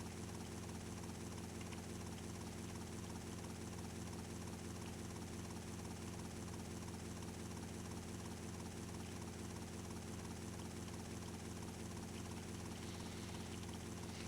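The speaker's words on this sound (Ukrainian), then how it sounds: "До речі, вертольот бачимо." A helicopter flies in the video game GTA Vice City, giving a steady rotor drone with a faint rhythmic chop that runs unbroken for the whole stretch, quiet and with no talk.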